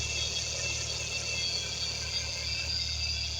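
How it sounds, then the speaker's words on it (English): A car's power steering pump whines loudly on a cold start, a constant mechanical drone with a high ringing tone that holds steady throughout, with no talking. "That power steering pump is gonna go a little loud."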